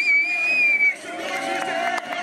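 Crowd at a Team No Limits Kawasaki Ninja motorcycle stunt show in the rain cheers and shouts loudly, with a sustained whistle over the roar at first, then broader rising cheers and scattered yells.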